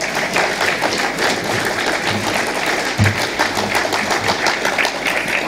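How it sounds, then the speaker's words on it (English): A conference audience applauds steadily to welcome a speaker, a dense, sustained wash of clapping from a large crowd with no talk over it. "I appreciate the applause at the beginning of a presentation"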